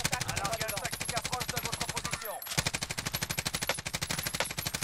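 A PKM machine gun fires in long, rapid, evenly spaced bursts in the Call of Duty Warzone video game, loud and close, with a brief break in the middle before the fire resumes.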